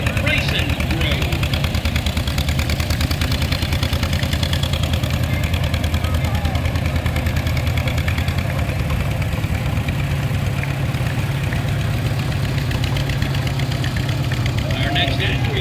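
A four-ball 350 tractor runs in a small-town parade, a loud steady low engine rumble throughout, with street and crowd noise mixed in.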